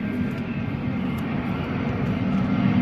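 A fixed-wing airplane passes overhead, a steady broad engine roar with a low rumble that stays loud and continuous throughout, heard outdoors with no talking.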